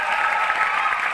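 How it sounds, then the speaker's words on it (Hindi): Steady applause from a crowd, dense and even clapping filling the whole moment without voices. "जोरदार ताली आइए सर, जोरदार ताली होना सर के लिए"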